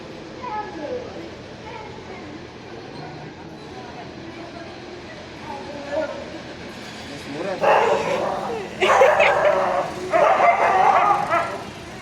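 Dogs chasing monkeys bark and yip intermittently at a distance, with people talking nearby and louder bursts of noise toward the end.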